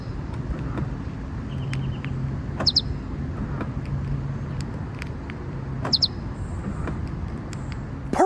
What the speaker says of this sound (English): the car makes a little bird tweeting sound when you lock the doors